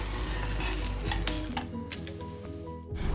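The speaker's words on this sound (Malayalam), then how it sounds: "ഇത് നമുക്ക് തിരിച്ചിട്ട ശേഷം മറുവശവും കൂടി ഒന്ന് വേവിച്ചെടുക്കാം" A ragi dosa sizzles steadily on a hot pan after being flipped, a loud continuous fry hiss with a few soft scraping and clinking touches, no voices.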